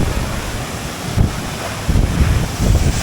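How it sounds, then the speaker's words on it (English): Strong wind blows close to a big waterfall in North Bali, making a dense, steady rumbling rush with gusty surges that batter the microphone. "Ah, it's so windy!"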